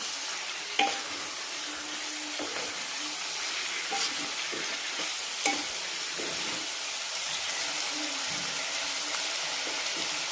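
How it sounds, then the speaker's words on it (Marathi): Mutton sautéing on high heat hisses in a steady sizzle, with a few sharp clinks and intermittent scraping stirs, close up and without speech. "आणि फास्ट गॅस करायचा आहे आणि छान आपल्याला ह्याला परतून घ्यायचं आहे."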